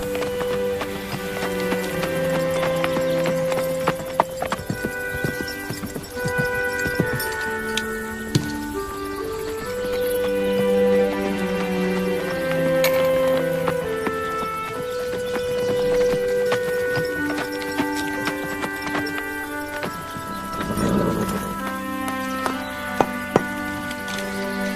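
A horse's hooves clip-clop steadily under prominent melodic music, with faint splashy textures mixed in throughout.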